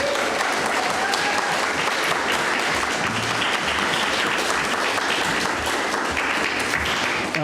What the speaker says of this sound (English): Can we get another round of applause for him?